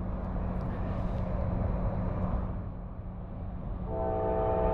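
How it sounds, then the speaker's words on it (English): A Norfolk Southern 62V eastbound freight train, a trash train led by unit 4176, rumbles past at Middlesex, New Jersey, loud and steady, and a sustained horn blast joins near the end. "All right, give me a nice horn show, 62V."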